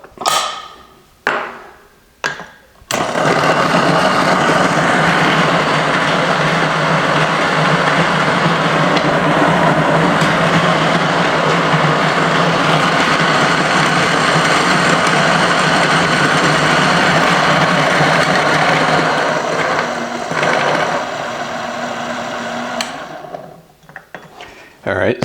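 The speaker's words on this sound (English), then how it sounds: "We will take our 18 grams of beans. We will grind these up." An electric coffee grinder chews through 18 grams of beans: a few short bursts, then a loud, steady grinding whir that runs close and continuous for about twenty seconds before winding down, with no voices.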